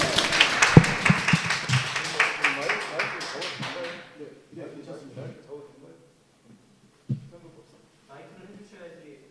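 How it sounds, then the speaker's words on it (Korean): An audience at a fair-election policy pledge ceremony for Suncheon mayoral candidates claps loudly for a few seconds, then the applause thins out into scattered claps and murmuring voices, with one sharp tap near the end. "박수 부탁드리겠습니다"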